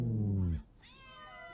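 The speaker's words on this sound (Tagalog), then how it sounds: "Bakit ang daming pusa?" A cat gives a loud drawn-out meow that cuts off abruptly, followed by thinner, higher mewing in the background, suggesting several cats nearby.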